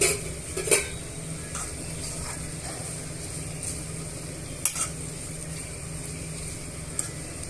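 Steady sizzling as thinly sliced beans are added to a tempering of spices in a pan, with a few clanks and scrapes of a utensil stirring, a soft frying hiss continuing underneath.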